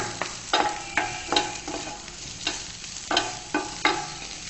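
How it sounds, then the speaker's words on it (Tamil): Spring onions being stir-fried in a hot pan, with a steady sizzle broken by repeated scraping strokes of a spatula at a regular, brisk rhythm, close and clear. "ஸோ ஸ்ப்ரிங் ஆனியன்ஸ் ஆட் பண்றேன். வெங்காயத்தாள் தான் யூஸ் பண்றேன்"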